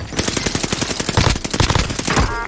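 Rapid automatic gunfire in the video game Warzone, a loud, close burst of dense repeated shots rattling continuously for a couple of seconds with overlapping cracks.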